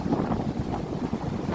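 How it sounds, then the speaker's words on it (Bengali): Strong gusty wind on the sea beach at Puri, a steady low roar buffeting the microphone throughout, with surf washing faintly underneath and no talking. "প্রচণ্ড হাওয়া দিচ্ছে"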